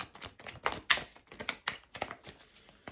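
Tarot cards riffled and shuffled by hand, a run of quick papery taps and flutters in irregular bursts, close and moderately loud with no talking.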